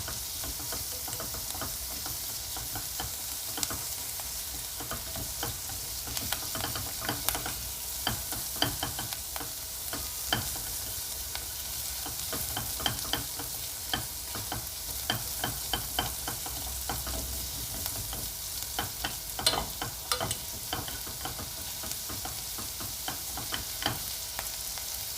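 Rice and turkey slices frying in a pan, stirred with chopsticks or a wooden spatula: a steady, close sizzle runs throughout, broken by frequent small clicks and scrapes of the utensils.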